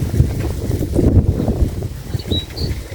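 Loud, rumbling wind blowing over water outdoors, a steady low roar with gusts pressing against the microphone.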